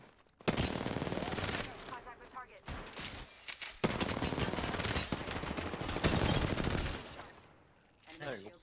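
Gunfire in the video game Apex Legends, dense rapid automatic bursts that roar continuously with brief gaps, loud and close, ending in a short quieter tail.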